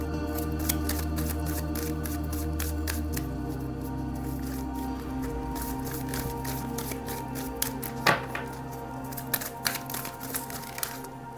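Tarot cards are shuffled in hand, giving a dense run of rapid papery flicks and riffles, followed by a few separate snaps and taps as cards are handled, close and fairly quiet with no speech.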